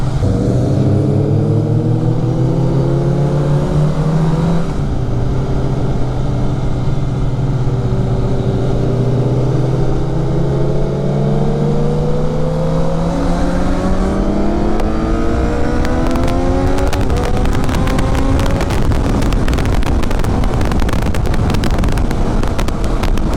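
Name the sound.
superbike with Akrapovic exhaust riding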